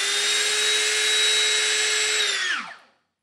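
A Gtech Multi cordless handheld vacuum cleaner runs at a steady, loud whine for nearly three seconds, then powers down with a falling tone and stops, leaving silence.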